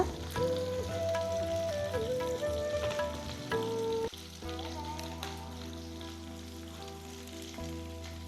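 Curry leaves and green chillies fry in hot oil in a pan for a chilli chicken dish, giving a steady close sizzle with soft crackles under a constant background hum.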